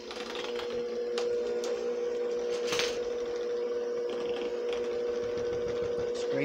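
An electric mixer hums steadily at low speed while blending frosting tinted with yellow food color, a close constant whirring drone with a few light clicks and scrapes.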